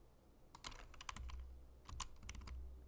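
Computer keyboard typing comes through as faint bursts of quick clicking keystrokes in two short clusters, quiet and close, with no voices.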